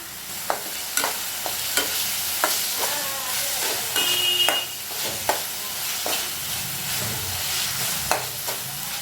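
Onions and ginger-garlic paste fry in a pan for Chettinad prawn thokku, a continuous sizzle broken by regular sharp scraping taps of a spoon stirring, close and fairly loud.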